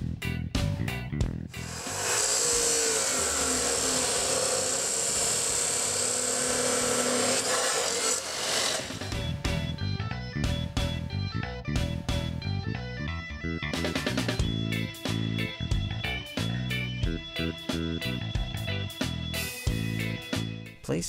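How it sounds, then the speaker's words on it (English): A chop saw cuts off the damaged section of a Spartan Tool sewer cable, a loud continuous grinding whine for several seconds, then followed by a run of sharp clanks and metallic knocks. "Use a chop saw to cut off the damaged section of cable."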